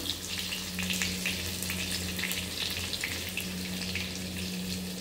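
Garlic fries in a hot pan with a busy, dense sizzle of popping and spitting bits. Steady and fairly close, it runs over a low, constant hum with no voices.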